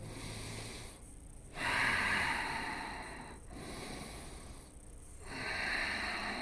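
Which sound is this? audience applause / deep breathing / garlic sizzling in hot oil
deep breathing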